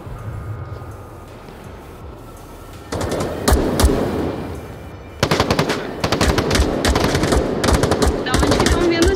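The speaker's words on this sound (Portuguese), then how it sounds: "Da onde que estão vindo os tiros, socorro?" Rapid bursts of automatic gunfire in the video game Onward crackle in sustained rattling volleys, growing denser and louder partway through, with a voice speaking faintly beneath the shooting.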